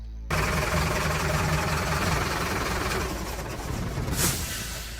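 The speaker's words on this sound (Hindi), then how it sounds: "अचानक से बस के इंजन में से तेज आवाज आती है" A loud bus engine noise used as a sound effect in a Hindi romantic horror story: a sudden onset of harsh, dense mechanical roar that holds steady for several seconds with a brief hiss near the end.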